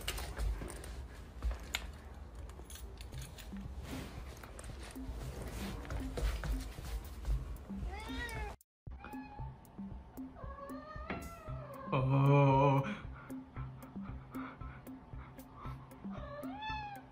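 A cat meows several times over a steady background of rustling and clicking, the cries rising and falling, with a louder, drawn-out yowl near the end.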